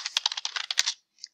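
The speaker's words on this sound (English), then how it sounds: "You can just go back and type in APEX again." Rapid typing on a computer keyboard, a dense burst of close, crisp key clicks for about a second, then a brief pause and one last faint tap, with no talking.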